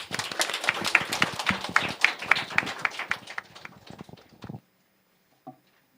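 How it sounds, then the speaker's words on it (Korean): A church congregation applauds in celebration, a dense burst of many hands clapping for about four seconds that stops abruptly, followed by near silence. "우리 축하하는 마음으로 박수로 축하합니다"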